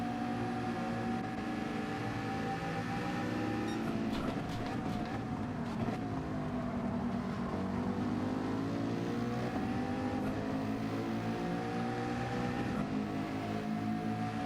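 Ferrari race cars roar continuously in a Gran Turismo 7 Nations Cup final, engines droning loud and steady with pitch sweeping down and back up as they brake and accelerate, faint commentary beneath.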